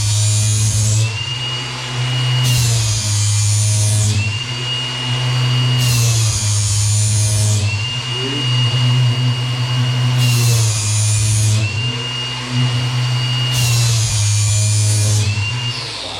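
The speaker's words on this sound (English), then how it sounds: "don't reach for anything until this grinder has stopped spinning" A bench grinder sharpens a steel lawn mower blade, its motor holding a steady loud whine while a harsh grinding rasp flares up and fades again in repeated passes every couple of seconds.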